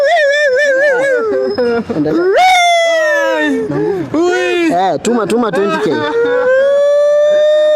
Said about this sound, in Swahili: Mbwa ziko hapa hivi zinalia zote.